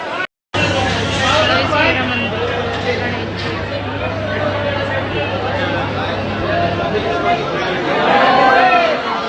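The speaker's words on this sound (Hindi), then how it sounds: "सब जगह बहुत ज्यादा ही भीड़ है।" Dense crowd chatter at a busy Hindu temple, many overlapping voices forming a constant close hubbub, with nearby people talking over it.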